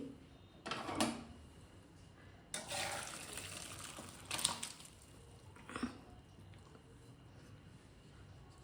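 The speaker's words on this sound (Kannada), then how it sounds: "ಈಗ ಬೇಳೆ ನೀರನ್ನ ಹಾಕೋತಾ ಇದ್ದೀನಿ" Cooked dal water being poured off and separated from the lentils and greens in a kitchen, heard as faint intermittent splashing pours in a few short bursts against a quiet background.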